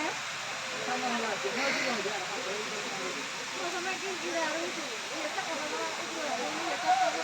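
Continuous rushing roar of Shuvolong Waterfall in Rangamati, Bangladesh, steady and broad, with people talking over it throughout.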